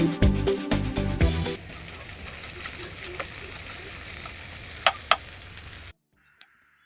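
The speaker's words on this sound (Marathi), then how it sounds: "आता आपण जी भेंडी घेतलेली आहे ती टाकूया तव्यामध्ये आणि भाजून घेऊयात भेंडी" Okra is tipped into hot oil in a pan and fries with a steady hiss that follows a brief burst of louder handling sounds. A couple of faint clicks come near the end before the sound cuts to silence.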